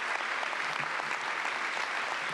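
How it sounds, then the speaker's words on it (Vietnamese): A large audience in a United Nations hall applauds, a dense, steady roar of clapping from many hands throughout. "Bài nói chuyện của Malala bị ngắt quãng nhiều lần bởi những tràng pháo tay vang dội tại hội trường Liên Hợp Quốc."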